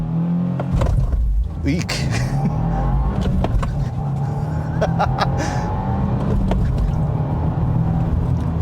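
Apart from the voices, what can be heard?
2025 Subaru WRX tS launch with aggressive clutch dump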